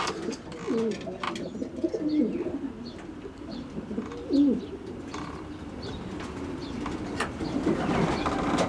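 Racing pigeons coo repeatedly in a loft in soft, low rolling phrases, close by, with faint rustling and background ambience throughout.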